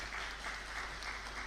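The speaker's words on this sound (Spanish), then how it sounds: "Lo recibimos con aplausos." Applause from the audience at an aeronautical and space law conference, soft and fairly distant, a steady patter of clapping over a short moment.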